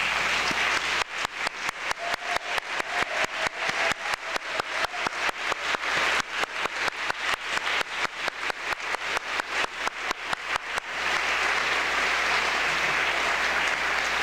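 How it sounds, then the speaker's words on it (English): Graduates applaud their families at a 2012 diploma awarding ceremony, a dense, steady wash of many hands clapping that runs loud and unbroken for about ten seconds, then settles into a softer crowd murmur. "let's give a round of applause to our families"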